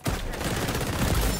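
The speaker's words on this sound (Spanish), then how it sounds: "Le disparo." Rapid gunfire from the online shooter XDefiant, a loud, dense, continuous burst of shots filling the whole moment with no pauses.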